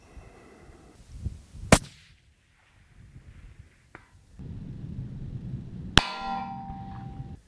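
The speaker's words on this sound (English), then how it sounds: "I'm going to fire a shot now and I'm going to aim in the centre of the kill zone" A long-range rifle fires one sharp, loud crack outdoors, and a second sharp metallic report follows a few seconds later, with quiet ambient noise in between.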